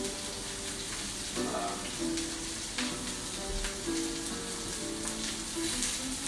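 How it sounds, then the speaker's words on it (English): A steak sizzles steadily in a hot pan, a dense continuous crackle at close range that holds an even level throughout, with no talking over it. "We're going to let the steak cook."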